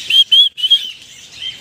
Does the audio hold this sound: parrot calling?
yes